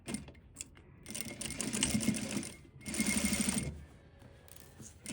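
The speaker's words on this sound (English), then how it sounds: "So the seam is here, and I'm gonna sew as close as possible." A sewing machine running close-up as it understitches seam allowances to a pocket facing, two steady bursts of fast mechanical whirring separated by a brief pause, with quieter handling noise before and after.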